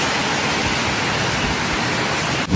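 Heavy rain pours down in a loud, constant hiss that barely changes, ending with a brief knock, at Crab Island in the USA, where the water has pooled on the ground.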